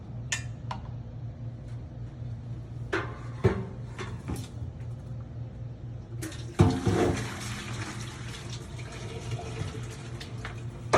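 Water gushes and splashes while coffee bar machine parts are rinsed under a tap, with a low hum and scattered clatters of the parts, then a stronger rush of flowing water in the second half.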